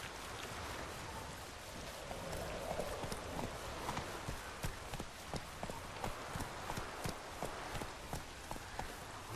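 Hooves of Roach, a horse in The Witcher 3 video game, gallop at a steady, rhythmic clip-clop, close and moderately loud, with soft ambient noise behind.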